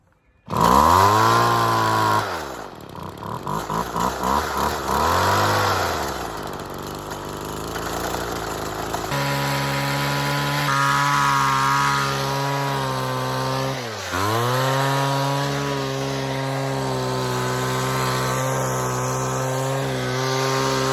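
A small gasoline engine on six-month-old ethanol-free fuel, choked and hard to start, sputters to life with uneven surges. It then settles into a loud, steady buzzing run heard up close, with brief dips in speed.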